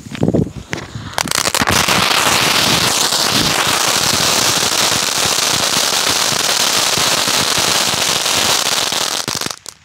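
Diwali firecrackers bursting outdoors: a few sharp pops at the start, then a loud, continuous barrage of dense crackling bursts that runs for several seconds before cutting off abruptly near the end.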